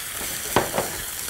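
Peas and spices sauté in a pan, a brief, steady close sizzle with two quick stirring scrapes in the middle.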